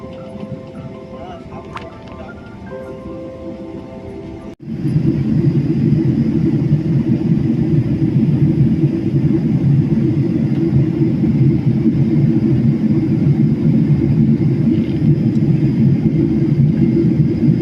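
Loud, steady low rumble inside an Emirates airliner cabin in flight from Dubai to Kolkata during turbulence, starting abruptly after a quieter opening stretch and continuing unbroken to the end.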